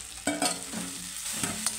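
Ragi semiya being stirred in a pan for upma: a short burst of spatula scraping and light sizzle, a few quick strokes close up, with no voices.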